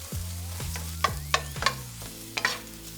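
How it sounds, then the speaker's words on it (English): Egg scrambled in a frying pan for fried rice, a low sizzle under a few sharp utensil scrapes and taps against the pan, with background music. "Cook it for about 30 seconds, scramble it, and mix it with everything else."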